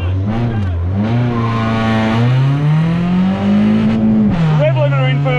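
A modified Toyota Yaris revs hard on a race track, its engine note climbing steadily through the gears in a loud, continuous drone with a brief dip at a shift, close to the microphone.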